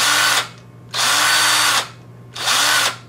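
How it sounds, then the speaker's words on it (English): A power drill spins a homemade fan for a water-cooled Briggs engine in three loud whirring bursts, each lasting about a second, separated by short pauses as the motor winds down. "we got it on the drill now"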